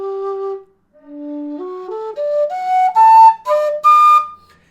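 A low D tin whistle plays a short run of notes, starting on a low sustained tone, then stepping upward through a bright, breathy scale.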